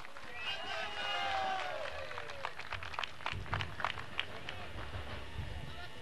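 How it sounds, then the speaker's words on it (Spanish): Crowd at an outdoor ceremony in Toledo, Bolivia, applauding to welcome the vice president at an irrigation system handover; a voice over a PA opens, then scattered clapping swells into steady applause at moderate distance. "Recibimos con un fuerte aplauso,"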